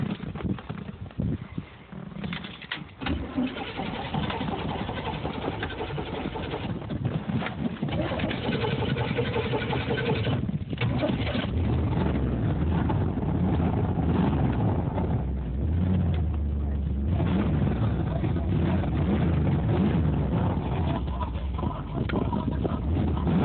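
Close, loud, steady mechanical churning runs nearly the whole time as someone tries to cold start an engine whose ignition timing is off and which has a bad valve guide. It deepens into a heavier low rumble late on.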